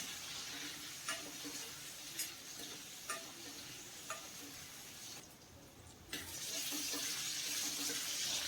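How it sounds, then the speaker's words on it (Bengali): Potatoes with turmeric fry in oil in a pan, giving a steady, quiet sizzle with faint periodic taps of stirring, until a louder burst of hissing near the end. "হলুদটাকে দিয়ে এখন আলুটাকে ভালো করে লাল লাল করে ভেজে নেব।"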